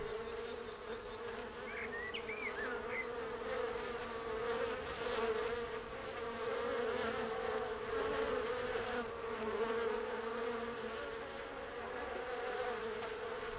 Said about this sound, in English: Don't worry, the bees won't hurt you, not really.